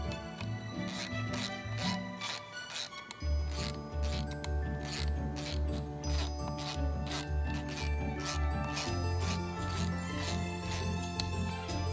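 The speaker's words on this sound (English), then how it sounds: "First, we'll snug them up with our ratchet and torque them down with our torque wrench." A hand ratchet snugs up bolts on a Harley Dyna clutch during a Kevlar clutch plate install, giving fast repeated clicking in long steady runs, close and fairly loud, with brief metallic clinks and no talk.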